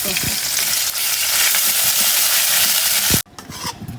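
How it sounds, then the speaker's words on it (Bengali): A spice paste with onion, garlic and green chili fries loudly in a pan, a dense, close hiss that runs steadily before cutting off abruptly and giving way to fainter stirring. "সব পদের মশলা দিয়ে এখন কষাই নেওয়া হইতেছে"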